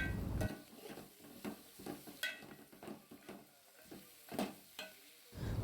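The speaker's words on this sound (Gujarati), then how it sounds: "પછી આપણે જે લીલું લસણ સમાર્યું હતું એને પણ અંદર નાખી દઈશું મિત્રો અને બરાબર ચમચા વડે એને મિક્સ કરશું" A spoon stirs chopped onion and green garlic in a sizzling pan, with frying crackle throughout and repeated clear scrapes and knocks against the pan, close and without talk.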